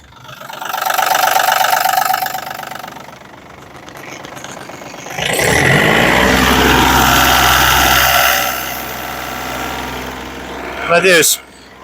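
A Yanmar RS27 four-wheel-drive tractor with a rotary tiller runs nearby, its diesel engine idling and then revving into a louder, rattling rumble, with someone talking over parts of it.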